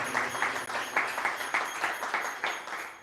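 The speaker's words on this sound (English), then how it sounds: "Can we give her a round of applause?" Moderate applause from an audience at an annual general meeting of a Vedic education institute, evenly pulsing clapping that sounds from a short distance, with no talking over it.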